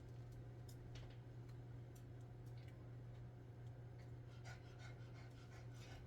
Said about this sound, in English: If you hear that, that's my dog panting in the background.